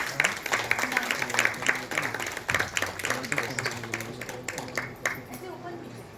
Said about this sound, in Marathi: सर्वांनी आपण एक जोरदार टाळ्या वाजवून त्यांचं अभिनंदन करूया